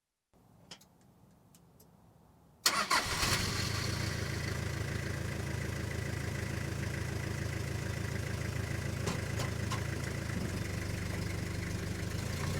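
A Toyota Camroad 4x4 diesel motorhome engine cranks and catches after a couple of quiet seconds, then settles into a loud, steady, close idle with a faint ticking clatter and no talk.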